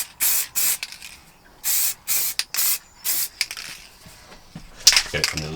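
Silver spray paint coating car parking sensors in a series of quick, close hissing bursts with short gaps, followed by a rattling, handling clatter at the end.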